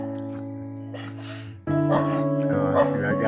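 Several dogs bark and yap in a rural village at Sitio Kanawan in Morong, Bataan, loud and near, growing more intense after a short lull.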